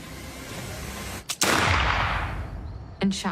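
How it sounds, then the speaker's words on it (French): A single sharp pistol shot cracks out loud and close, with a brief echoing tail that fades over a couple of seconds, followed by another short burst of noise. "et lui a tiré une balle dans la tête"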